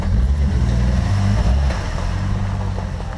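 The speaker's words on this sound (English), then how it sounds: "I drive over the rocks." An off-road vehicle crawls over rocks at Rock Run, its engine giving a steady, close low rumble that eases slightly partway through, with no voices over it.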